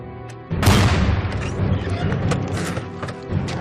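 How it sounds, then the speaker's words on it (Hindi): A grenade launcher fires in a war movie, a sudden heavy boom followed by a rolling, ringing blast and lingering rumble with scattered mechanical clanks. "Grenade launcher, fire!"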